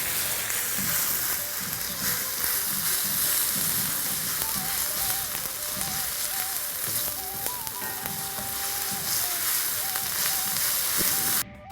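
Ginger and garlic sizzle and fry in a hot pan during a Gonguru country chicken dish, a loud continuous crackling hiss with faint clinks of a utensil near the end.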